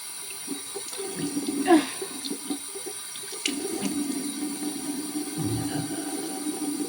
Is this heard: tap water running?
yes